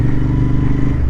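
A motorcycle brakes progressively, its engine giving a loud, close, steady low drone with slight fluctuation over a brief moment.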